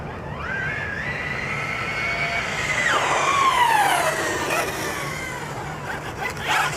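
A Hobao Hyper10 SC 2.0 RC short course truck's electric motor whines and revs close by, its pitch rising, dropping sharply and sweeping again as it drives past.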